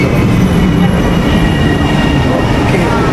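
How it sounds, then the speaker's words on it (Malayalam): A regional train rumbles loudly and continuously close by at a station near Lake Bracciano, Italy, with a steady low roar and faint metallic ringing, no voices. "നമുക്ക് പോകാനുള്ള ട്രെയിനായിട്ടോ ഇത്."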